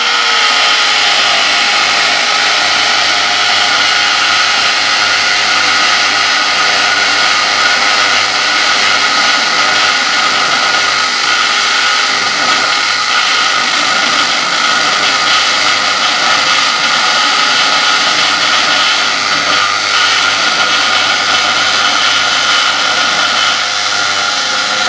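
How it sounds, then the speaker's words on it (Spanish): Milwaukee Fuel drills run with a 5/8 concrete bit as a loud, continuous high-pitched motor whine that holds steady without pause, very close to the microphone. "Vamos a probar los dos taladros con esta broca."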